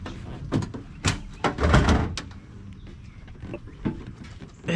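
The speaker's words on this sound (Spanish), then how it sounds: "Dejen abrir la puerta y lo acomodamos." A door being opened outdoors while a hoverboard and charger are being loaded, with a few sharp knocks and rattles, a louder burst of handling noise in the middle, and faint voices in the background.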